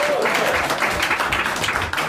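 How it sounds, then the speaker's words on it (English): Short burst of audience applause at a hardware tech talk, dense clapping from a room of listeners, fairly loud and continuous with a murmur of voices beneath. "Big round of applause."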